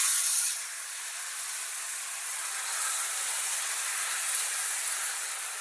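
Rice flour batter for pejwali ghavan poured onto an oiled hot griddle, a steady close hiss of sizzling that bursts loudly at first and then settles into an even fry.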